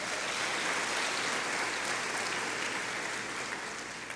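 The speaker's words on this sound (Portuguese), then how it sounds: "aplauda bem forte o nome de Jesus." Loud, dense applause from a church congregation, steady and sustained throughout before tapering slightly at the end.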